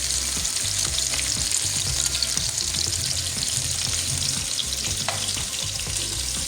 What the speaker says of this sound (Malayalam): ചിക്കൻ ഒരു സൈഡ് നന്നായിട്ടൊന്ന് മുരിഞ്ഞിട്ടുണ്ട്.